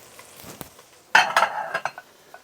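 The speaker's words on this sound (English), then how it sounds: "this is when you want to add your carrots, your celery, and your onions, all small diced" Small-diced carrots, celery and onions tipped into a hot pan for a Bolognese, giving a sudden clatter and brief sizzle with a few clinks of utensil on metal, close and then tapering off.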